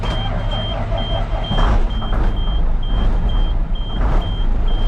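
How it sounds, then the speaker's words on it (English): A Cummins diesel engine cold starting on equipment used for moving stone or gravel: a loud, steady rumbling idle runs throughout, with a regular high reversing-style beep repeating alongside it. "nice cold start to the Cummins here"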